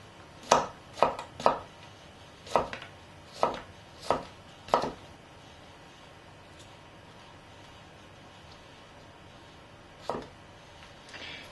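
An Al Mar Santoku knife slicing food paper thin on a board, giving seven crisp chopping strikes in a quick series, then a pause and one more cut, close and clear with no talk.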